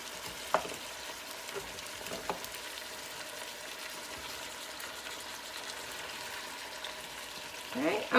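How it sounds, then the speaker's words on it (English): Frozen artichokes sizzle steadily in a hot pan, a soft crackling hiss broken by a few louder pops and stirring scrapes. "it's really cold, so I'm just going to let that sizzle."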